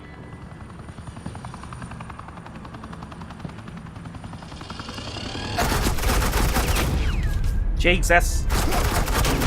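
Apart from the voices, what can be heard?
suppressing gunfire, from video game Batman: The Enemy Within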